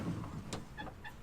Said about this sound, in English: there's also a slide out tray here